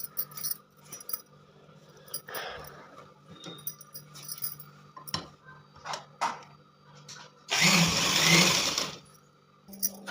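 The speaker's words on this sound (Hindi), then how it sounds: "इन्हें हम कच्ची सिलाई से यानी कि रफ सिलाई लगाएंगे" A sewing machine stitching a bridal lehenga blouse runs in one steady, loud burst of several seconds, set among scattered handling clicks, fabric rustles and light clinks in a quiet room.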